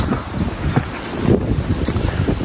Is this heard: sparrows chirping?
no